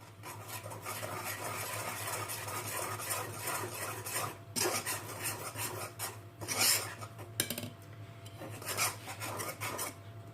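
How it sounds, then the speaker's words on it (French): Chocolate crazy cake batter being stirred in a bowl, with scraping and tapping of a utensil against the sides in uneven bursts, fairly close, with short pauses between strokes. "Vous mélangez bien."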